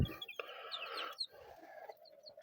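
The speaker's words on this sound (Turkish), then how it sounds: "Şurada fizan civcivlerimiz var 8 adet." Pheasant chicks peep in a poultry pen, a string of high, thin chirps close by with a faint low bump at the start and no talking.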